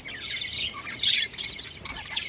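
Pet birds in breeding condition chirp and tweet close by in a busy, overlapping chatter, with one louder burst of calls partway through.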